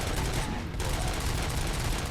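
Dense, continuous gunfire in the video game RoboCop: Rogue City, a loud, unbroken rattle of rapid shots with a brief dip partway through.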